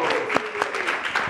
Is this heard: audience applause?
yes